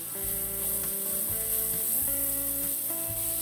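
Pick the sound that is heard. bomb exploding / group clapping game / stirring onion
stirring onion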